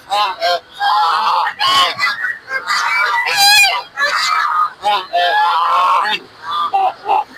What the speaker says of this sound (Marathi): बदक बघा हा मोठा